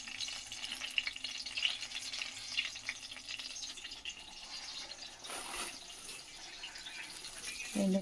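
Faint sizzling of garlic, mustard seeds, cumin and dried red chillies in hot oil, with light stirring and a burst of crackle midway, growing louder at the end.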